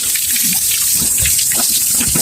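Steady rushing, splashing water from a submersible pump runs continuously, loud and close, pushing a strong stream into a basin.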